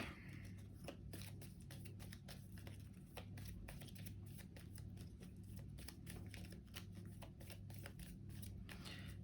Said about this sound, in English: So shuffle it back into the encounter deck.